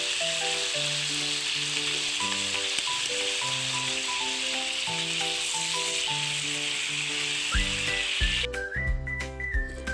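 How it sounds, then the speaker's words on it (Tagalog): Chicken pieces frying in hot cooking oil in a pan, a steady dense sizzle running throughout with crackles, while soft background music plays over it and changes near the end. "Prito muna natin yung ating chicken."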